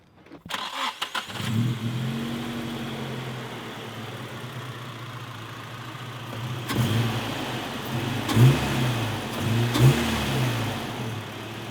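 A Toyota Corolla KE70 engine converted to a 4AG cranks and fires up nearby, settles into a rumbling idle, then is revved twice with rising roars before dropping back.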